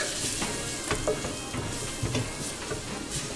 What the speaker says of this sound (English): Just for a few moments, toast the paprika with the onions and garlic.